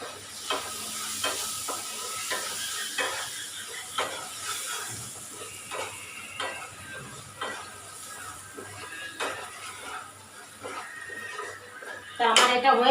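Coriander leaves being stirred into food frying in a pan: repeated scraping strokes at a steady rhythm over a constant sizzle, close and moderately loud, with a brief clatter near the end.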